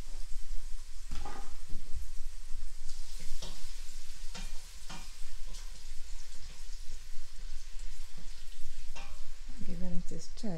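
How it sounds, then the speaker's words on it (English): Onions frying in a soup pot for Nigerian vegetable soup, a steady sizzle under repeated scraping stirs of a spoon, with a short clatter near the end. "I'm giving it a stir."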